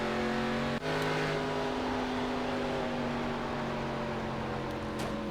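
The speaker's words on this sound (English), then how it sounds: "Very hard to control this car." An ARCA Menards Chevrolet Impala race car engine drones steadily at Charlotte Motor Speedway, a sustained loud hum with a brief dip near the start, as cars scrub along the outside wall.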